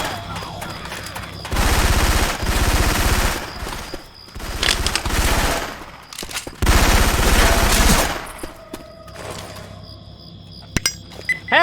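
Syphon Filter weapon sound effects in Left 4 Dead 2: loud, close bursts of rapid automatic gunfire in several long volleys separated by brief pauses, with metallic clinks and scattered game noises between them.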